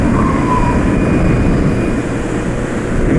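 A modified scooter engine revs hard at very high RPM, a loud, steady, droning roar that holds without a break throughout.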